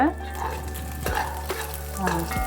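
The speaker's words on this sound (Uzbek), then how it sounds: "Yog' asta-sekin mana eriyapti" Fat slowly melting in a hot pan for a Chaikhana-style Bek khoplama dish, giving a steady close sizzle and crackle with a few stirring scrapes, with no talking.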